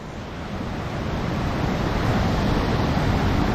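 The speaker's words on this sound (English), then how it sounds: "Look at this stream, guys." Water rushes loudly and steadily in a stream just below the Ereng waterfall in Kangpokpi District, a continuous broadband roar with some wind buffeting the microphone and no voices.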